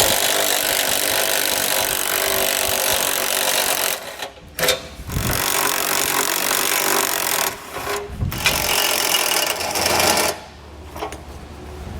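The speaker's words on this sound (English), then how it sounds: "we're going to take an 18mm deep well socket, and on each side we have 3 nuts securing it to the vehicle" An 18mm deep well socket spins the bumper beam nuts off a 2013 BMW 3 Series with a loud, continuous ratcheting buzz from a power tool, broken by a few short pauses.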